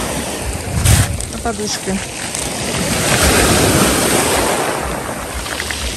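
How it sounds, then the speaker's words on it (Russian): Steady roar of Black Sea surf and breaking waves at Lazarevskoye with wind buffeting the microphone, and a person says a few words briefly over it. "Попробуем покататься на волнах."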